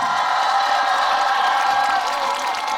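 A festival crowd at an outdoor maple-sap festival gives a sustained, loud burst of applause with cheering mixed in, steady and dense throughout.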